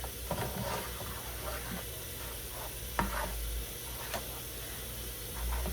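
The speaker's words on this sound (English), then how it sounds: "Now we're going to stir this part together." Taco filling sizzles in a hot pan while a utensil stirs and scrapes through it. Frying hiss runs throughout, with soft scrapes and taps on the pan and no one speaking.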